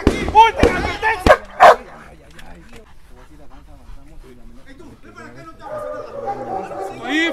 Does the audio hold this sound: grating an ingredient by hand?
no